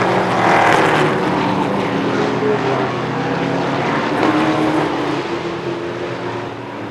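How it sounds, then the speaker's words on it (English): Race cars on a short track roar past on the final lap toward the checkered flag. A loud, continuous engine drone swells and fades with no talking. "Crossing the stripe, checkered flag goes to Jeff Rollins"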